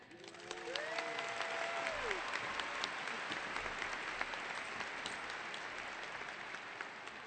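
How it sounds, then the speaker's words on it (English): Audience applause at the 2023 Brennan High School graduation ceremony for the class valedictorian, dense steady clapping filling a large hall, with a brief cheer rising early on, sustained throughout without speech. "Everyone, please give a warm welcome of applause to Brennan's class of 2023 valedictorian Samantha Escamilla."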